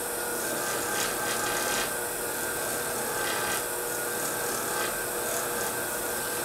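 A ring being polished with compound against a spinning buff on a Foredom bench lathe, giving a continuous loud rushing, rasping whir with slight rhythmic swells as pressure is applied.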